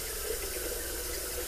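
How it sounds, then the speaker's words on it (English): Lukewarm tap water runs steadily into a jar, filling it about halfway; a continuous, even splashing rush heard close up with no talking. "And I'll fill this jar halfway up with water."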